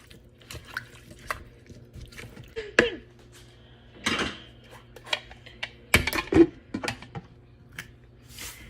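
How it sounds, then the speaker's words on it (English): A spoon stirs a potato dish in a pot, giving scattered clinks, scrapes and wet knocks at an irregular pace in a quiet kitchen. "let's stir this up"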